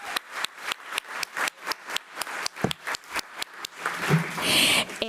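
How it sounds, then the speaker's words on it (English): Applause from an audience at a school board meeting honoring a student named Sierra: about a dozen distinct, evenly spaced claps that thicken toward the end into a denser burst of clapping. "Let's give her another round of applause."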